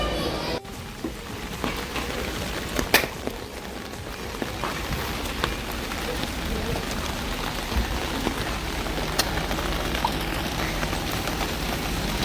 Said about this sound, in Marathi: आता पावसाला सुरुवात पण झालेली आहे